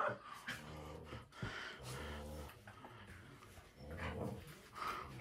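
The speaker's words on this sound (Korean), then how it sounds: "지금 찬이가 짖는 거는 내일이 지금 쑥 끼어들려고 하니까 끼어들지 말라고" Two dogs play together indoors, one giving short, close barks and yips through rough-and-tumble play, with soft whimpers and scuffling in between.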